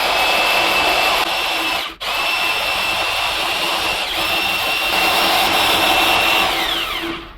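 A power tool cuts through a Model A front windshield frame during a top chop, a loud, continuous high-pitched whine with one brief dip before resuming steadily.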